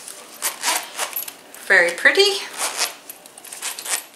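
The cheap zipper on a new pink change purse rasps in several short bursts, close and fairly loud, while a person speaks briefly between them.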